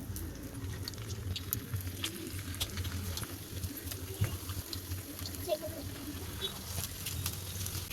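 Battered chicken pieces frying in hot oil in a kadai, a steady crackling, bubbling patter with faint scattered pops, close and continuous with no one talking.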